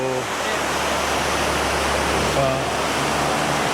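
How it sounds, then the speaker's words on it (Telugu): Cheyapara waterfall near Munnar, Kerala, roars in a dense, constant rush of water falling about 200-300 feet, loud and steady throughout, with faint voices buried beneath. "ఇక్కడ రోడ్డు పక్కనే ఉంది యాక్చువల్గా వాటర్ ఫాల్"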